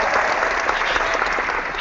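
A Utah crowd cheering and applauding for Colorado State, forming a loud, continuous wash of claps and voices with no pauses.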